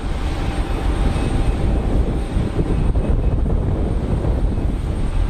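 A Transavia Boeing 737 jet roars steadily at an airport in a broad, loud, unbroken rumble with gusty texture, heard without any talking.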